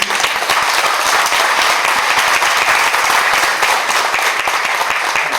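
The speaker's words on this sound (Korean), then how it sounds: "정말 치열하는 박수를 할까요?" Sustained audience applause fills a conference hall after a panel discussion, dense and steady throughout with many hands clapping at once, no voices rising above it.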